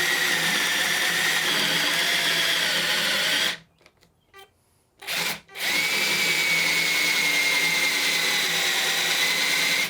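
A cheap one-star Amazon drill bores a half-inch hole, whining loudly and steadily, then briefly cuts out in the middle before spinning back up to a continuous buzz.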